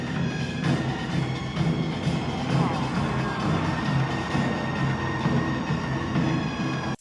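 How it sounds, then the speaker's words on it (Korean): A large crowd of foreign spectators cheers and shouts at a Korean traditional samulnori performance by an honor guard, with sangmo ribbon-hat spinning and b-boying. The roar is steady and continuous, with excited voices blending into one wash of noise. "수많은 외국인들은 너도 나도 환호의 목소리를 보냅니다"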